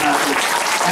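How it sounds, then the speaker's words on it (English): Audience applause at a magician's show in a parish library, a dense, loud, steady burst of clapping filling the whole moment. "Give them a big round of applause."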